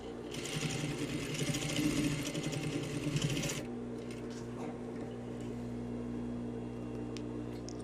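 A sewing machine stitches a double welt pocket seam for a tailored vest, running in a fast steady whir for about three seconds and then stopping, leaving a low hum and faint rustling close by.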